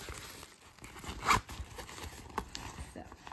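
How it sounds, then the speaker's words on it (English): A small travel pouch's zipper is pulled open with one quick, close rasp amid quiet handling noise. "Oh, the zipper."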